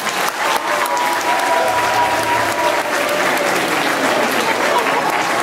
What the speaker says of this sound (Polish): Brawa do Natalii.